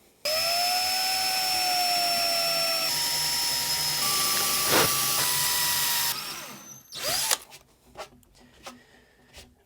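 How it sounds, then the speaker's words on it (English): A loud, high whining power drill runs steadily for several seconds into a backcountry ski for binding mounting, its pitch shifting slightly, then winds down into scattered clunks and handling noises. "So let's make sure we only drill to the required depth here"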